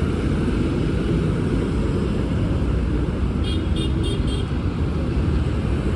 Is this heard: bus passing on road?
yes